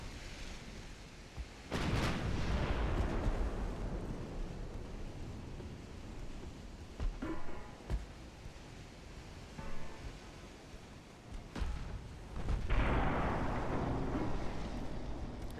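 Naval guns firing a salvo of HE shells in the warship game Ultimate Admiral Dreadnoughts: two heavy booming blasts with long rumbling wash, over constant sea and wind noise.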